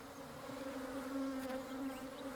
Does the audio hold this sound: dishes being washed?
no